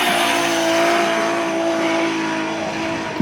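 A BMW 1050 Turbo drift car at Drift Masters Ahvenisto holds a loud, steady, high engine drone close by, with tire noise blended in, then eases slightly near the end.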